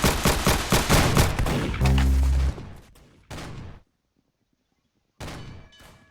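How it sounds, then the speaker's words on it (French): Dual pistols firing in the Roblox Arsenal video game, a rapid burst of sharp close shots followed by a few separate louder shots with gaps of silence between them. "Donc là on commence avec les doubles pistolets"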